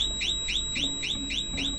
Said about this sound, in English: I could hear the burglar alarm on my house blaring.